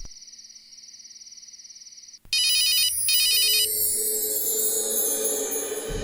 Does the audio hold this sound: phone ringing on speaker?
yes